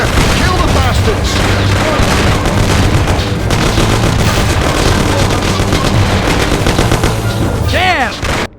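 Heavy gunfire in a shootout from Mafia: The City of Lost Heaven, loud and sustained over several seconds, with rapid bursts, a few booming shots, shouting voices mixed in, and an abrupt stop at the end.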